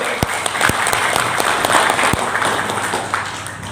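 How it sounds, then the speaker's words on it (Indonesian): An audience applauds a speaker at an indoor event, a dense, sustained burst of many hands clapping at close to mid distance, loud and steady throughout. "sekali lagi berikan aplaus yang sangat meriah untuk beliau"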